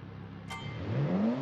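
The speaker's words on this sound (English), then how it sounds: "this car is loud, is what I can tell you already" A loud sports car engine in the BeamNG driving game revs up steadily, its pitch climbing as it accelerates, with a brief sharp click near the start and no talking.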